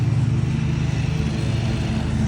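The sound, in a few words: backpack leaf blowers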